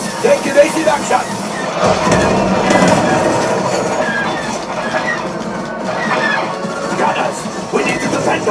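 Simulated train rumble on Millennium Falcon: Smugglers Run at Walt Disney World's Star Wars: Galaxy's Edge, continuous clatter with wheel squeal, loud and close, while people talk over it.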